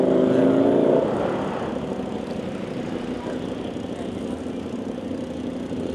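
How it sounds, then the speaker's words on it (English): Big motorbikes with loud exhausts on a street in Pratumnak or Jomtien rumble past nearby, a throaty engine drone that is loudest at the start, then settles into a steady roar. "These big bikes with their loud exhausts."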